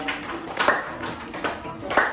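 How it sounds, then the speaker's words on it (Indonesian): Schoolchildren in a classroom clapping their hands for a group, a short burst of uneven, close claps with a few distinct louder slaps, voices mixed in. "kita kasih tepuk tangan buat kelompoknya Abigail."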